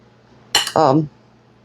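A metal coffee spoon clinks sharply against a dish, then scrapes briefly while scooping apple flauta filling, a single short burst up close.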